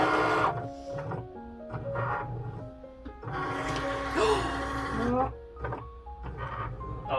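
A Cricut cutting machine drives its carriage back and forth across a cutting mat, making loud, close motor whirs and stepping tones in repeated bursts, with brief talking over it.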